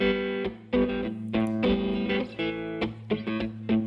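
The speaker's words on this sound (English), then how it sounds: "What you hear now is a good guitar with perfect tuning and a perfect" Well-tuned electric guitar with a correctly set-up bridge, played as a series of slightly driven chords and short riffs, each attack ringing briefly before the next, close and clear with no voices.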